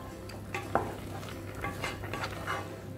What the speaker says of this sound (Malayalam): ഇനി നമുക്കൊന്ന് മിക്സ് ചെയ്ത് കൊടുക്കാം